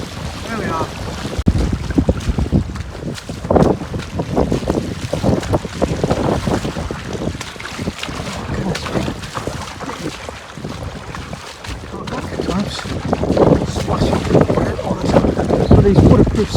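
Strong wind and rain buffet a runner on a Dartmoor trail, with loud continuous gusting and roaring wind noise against the microphone throughout, rising and falling but never letting up.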